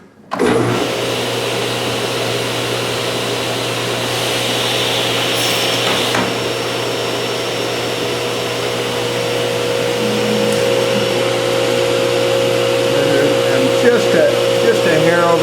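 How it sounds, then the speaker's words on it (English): A power saw whines steadily as it nips partway into a wooden board during milling, a loud continuous motor tone starting abruptly and holding for the full length, close by, with no clear talk over it. "I'm going to just nip the board. I'm not going to cut all the way through."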